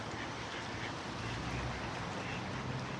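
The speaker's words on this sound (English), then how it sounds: "how many swans?" Swans gathered on open water during a winter run, calling in a dense, continuous wash of honks and quacks heard at moderate distance with steady background noise.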